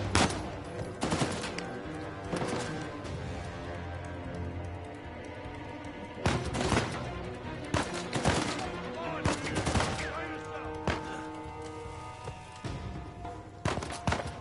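Gunfire rings out in the video game Uncharted: A Thief's End: loud bursts of shots hit in clusters with sharp peaks, set against a continuous game soundtrack, with no talking.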